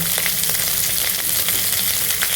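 Onion, garlic, green chili and crushed ginger sizzle in hot oil with chana dal, a steady close crackle and hiss with faint stirring.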